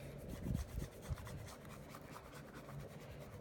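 A vinyl logo is scraped firmly on a cutting mat, a faint rough rubbing and rasping of repeated close strokes with no voices.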